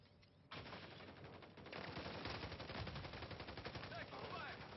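Rapid automatic gunfire rattles continuously in a Call of Duty Modern Warfare 3 multiplayer match, loud and dense after a quieter start, with faint voices mixed in.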